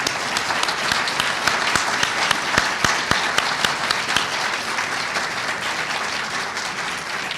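Sustained applause from a seated audience fills an awards ceremony hall. Dense clapping holds at an even level throughout, with a few sharper individual claps standing out.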